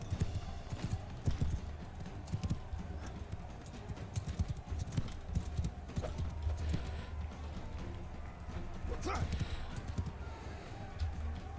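Horse hooves clip-clop steadily through a medieval combat scene in the video game Mount & Blade II: Bannerlord, a continuous rhythmic trot with occasional whinnies over game noise, while someone comments intermittently.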